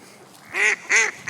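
A human voice imitates a duck, giving two short, nasal, close quacks in quick succession over a quiet background.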